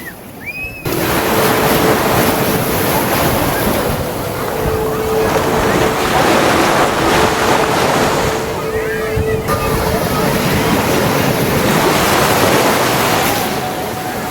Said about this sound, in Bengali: সমুদ্রে আসলে সমুদ্রের গর্জনটা শুনে যাবেন